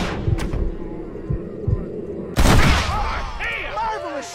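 Gunfire in the Western video game Red Dead Redemption: a few scattered muffled shots, then a loud burst of blasts around the middle with ringing decay, mixed with game voices and music.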